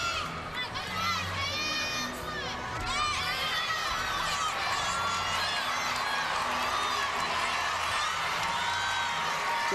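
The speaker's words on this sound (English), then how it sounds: "Georgia crowd getting behind her" A packed arena crowd at a college gymnastics meet between Florida and Georgia cheers and shouts continuously, loud and close, with high voices yelling encouragement throughout.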